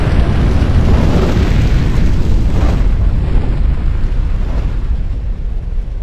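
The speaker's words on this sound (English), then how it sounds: "Epic explosion." A huge explosion erupts in the video game Just Cause 2, a loud sustained blast with rumbling debris and roaring noise that gradually tapers off over several seconds, with no speech.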